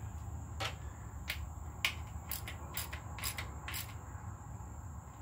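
A ratchet tightens a fitting during a fuel leak repair, giving a quiet, steady series of sharp metallic clicks in short bursts over low background noise, with no talk.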